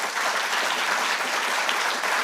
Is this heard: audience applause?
yes